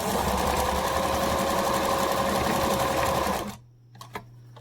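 Sewing machine stitching fabric for a homemade mask, a steady loud close whir for about three and a half seconds before stopping, followed by a couple of faint clicks.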